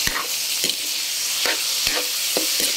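Pork liver with oyster sauce stir-fries in a pan under a loud, continuous sizzle, broken by repeated scraping stirs at a steady pace, close by with no talking.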